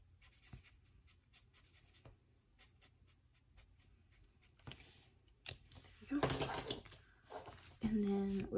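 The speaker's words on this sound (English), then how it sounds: "I'm gonna color it first and then I'm gonna write in it." Marker coloring and writing in a savings challenge book makes close, scratchy, rhythmic strokes at low volume. Louder rustling and handling noises come near the end.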